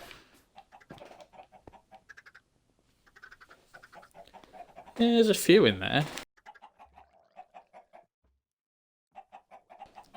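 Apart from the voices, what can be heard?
chickens clucking in a chicken farm, from a Minecraft-style video game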